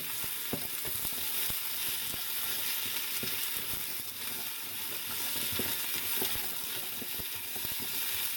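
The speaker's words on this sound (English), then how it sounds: "Saute that for a minute or so." Garlic sautés in hot oil in a pan for a chicken noodle soup, a soft continuous sizzle broken by occasional light clicks and scrapes of stirring.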